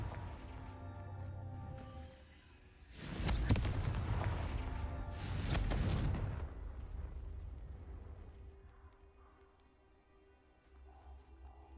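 Two heavy Confringo spell explosions in Hogwarts Legacy erupt one after another, each a loud, booming blast with rumbling debris that slowly fades into a quiet hum.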